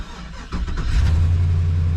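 A Chevy Express van with 235,000 miles is started after a tune-up: a short cranking whir catches into a loud, close engine that settles into a steady low rumble.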